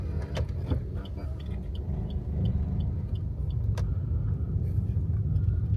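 Congested city traffic by a market square in Singaparna, with a steady low rumble of car engines close by, a few brief metallic clinks, and no voices.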